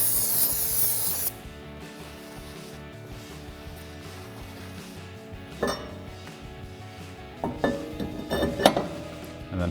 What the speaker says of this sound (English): So take some brake clean and a clean microfiber towel and give it a wipe down.